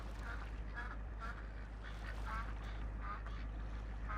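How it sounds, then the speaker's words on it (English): Ducks in the farming video game Farming Simulator 2017 quack in a steady, repeated series. The calls are faint and sound a little distant, over a low constant hum. "There's also ducks that actually fly around."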